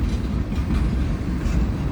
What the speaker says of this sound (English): It's a very long train.